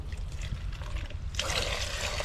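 Water trickles quietly, then pours more strongly for a kingfisher, a close, steady splashing stream.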